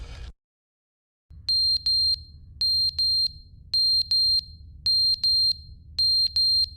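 A smoke detector in The Stanley Parable chirps in loud, regular pairs of high beeps, five pairs in all over a low background hum, after a moment of near silence.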